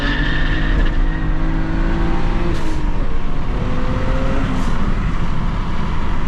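A manual BMW 335is tuned to about 400 hp pulls hard from a second-gear start, its engine loud and close in a sustained rising roar as the revs climb through the run, with no talking.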